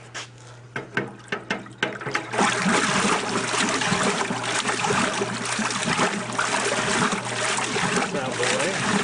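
An old wringer washing machine from yesteryear being switched on, with a few knocks and clunks giving way to a steady loud rush of churning water and motor noise that runs on without a break.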